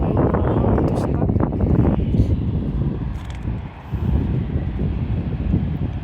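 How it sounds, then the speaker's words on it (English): A British Airways airplane taxis at London City Airport after landing, its engine roar loud and steady under heavy wind noise on the microphone, with a brief dip midway before the roar resumes. "I think I'm just gonna take another airplane that just landed and he's obviously turning around"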